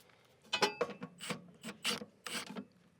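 Close, quiet scraping and grinding of a metal plate being slid into place on a 2025 Bobcat T86, in a handful of short rasping strokes with gaps between them.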